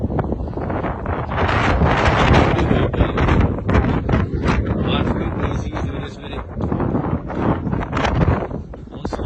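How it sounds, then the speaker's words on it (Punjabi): Strong wind buffets the microphone at Niagara Falls, a loud, continuous broadband roar with gusty surges throughout. A voice may be faintly present beneath the rumble. "ਹਵਾ ਬਹੁਤ ਜ਼ਿਆਦਾ ਵਗ ਰਹੀ ਆ"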